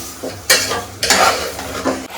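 Lima beans and chicken fry in a pan while a spoon stirs them, with loud scraping sweeps and metal clinks over a constant sizzle, close and busy.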